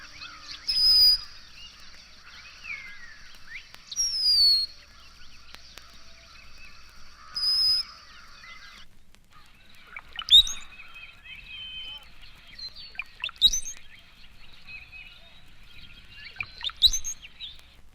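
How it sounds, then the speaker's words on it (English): High, thin squeals and bubbly liquid gurgles from a male cowbird, repeated in several bursts with quiet gaps, fairly close against a steady high background hiss. "Here are the high squeals and liquid gurgles of a male cowbird."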